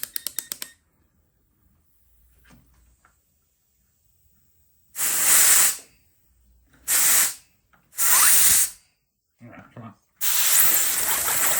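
A steam rotary engine with a 3D-printed serpentine coil generator runs on compressed air, giving loud bursts of hissing air separated by near silence, with one short spoken remark.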